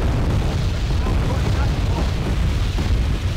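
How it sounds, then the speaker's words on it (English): Artillery explosions from a large Wargame AirLand Battle fight, a steady wall of rumbling blasts and booms that overlap with no gaps, with talk running underneath. "They're wasting artillery."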